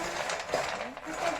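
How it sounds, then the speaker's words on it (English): Dried cocoa beans rattle and scrape against a heated pan over a fire as they are parched, a short close-up clatter with light metallic clinks. "we're going to be parching the dried cocoa. This is the parching process."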